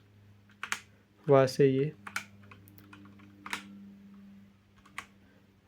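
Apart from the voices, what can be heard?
Cosmic Byte mechanical keyboard keys being clicked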